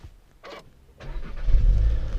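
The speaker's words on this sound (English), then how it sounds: "And it fires right up." A Skoda Octavia RS 245 petrol engine starts up after a couple of faint clicks, the starter catching and the engine settling into a deep, steady idle rumble, heard close with no talking.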